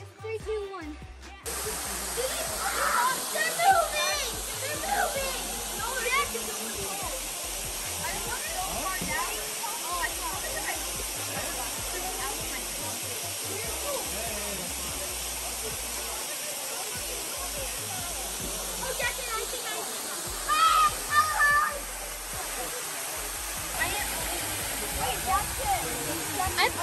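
Steady broadband rush of Manoa Falls, a waterfall on Oahu, heard up close as a constant hiss-like roar lasting throughout, with people talking over it at moments.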